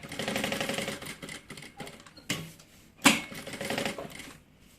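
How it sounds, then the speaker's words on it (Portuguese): A sewing machine stitches a seam along the edge of fabric for a bag, giving quiet rapid mechanical clatter in short bursts with brief pauses and a few sharp clicks. "E vai só fazer uma costura bem na beiradinha."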